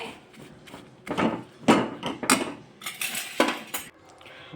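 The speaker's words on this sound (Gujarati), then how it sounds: "સફેદ તલ એડ કરી દેશું ને આપણે ગેસ બંધ કરી દેશું। આને ફટાફટ આપણે હલાવવાનું છે।" A spoon stirs white sesame seeds through a hot pan for sesame chikki, with the heat off. Irregular clattering scrapes and taps repeat up close at a quick, uneven pace, with no voices.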